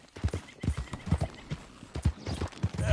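A horse gallops in the video game Red Dead Redemption 2, its hooves beating a quick, steady rhythm that sounds close and clear for three seconds, with a faint whinny mixed in.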